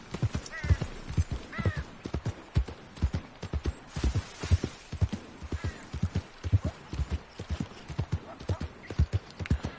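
Horse hooves clip-clop at a steady trotting rhythm while riding a trail through mountains and rivers in Red Dead Redemption 2, crisp repeated hoofbeats alone with no voices.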